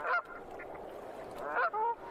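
Canada geese resting on northern lakes during migration give two loud, nasal honks, one at the start and another pair near the end, with softer calls and open-air ambience between.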